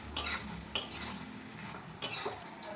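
A utensil strikes a pan in three sharp, close clinks while okra curry is being stirred, with a soft sizzle running underneath and no talking.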